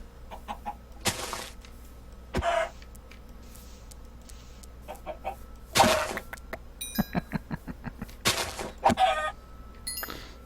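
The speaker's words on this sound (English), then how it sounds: "I don't need that many chickens." Chickens cluck in the Minecraft video game, with repeated short bursts of clucking at irregular intervals against a steady low background hum. No voices are heard.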